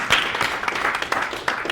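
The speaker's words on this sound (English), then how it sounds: "Give him a round of applause, please." An audience at an agile user group talk claps for a participant, a brief burst of loose, uneven clapping with distinct individual hand strikes heard up close.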